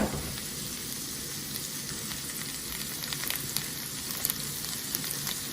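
Mushrooms and shallots frying in extra virgin olive oil in a pan, giving a steady, close crackling sizzle with tiny pops throughout and no talk.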